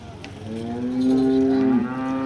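A single purebred cow at a cattle market in Modnimb moos loudly and close by, a long steady low call that swells and holds for about two seconds.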